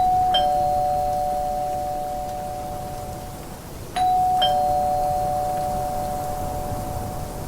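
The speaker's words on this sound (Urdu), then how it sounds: "اس کے دروازے پر جا کر گھنٹی بجاتا ہے" A doorbell at a house door rings twice, each press a clear two-tone electronic chime about four seconds apart, close and fairly loud over a soft background hiss.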